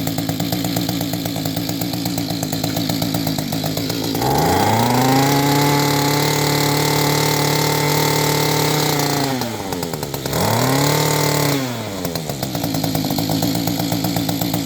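A small two-stroke engine on an Echo TC 2100 tiller runs close and loud, idling with a rattly buzz, then revving up hard, dropping back, and surging again, with no talk over it.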